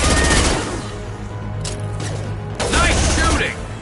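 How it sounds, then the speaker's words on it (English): Gunfire from a firefight in Mass Effect 2 during an assault on a Collector ship, loud sustained shooting with sharp bursts near the middle and a heavier volley at the end. "Nice shooting!"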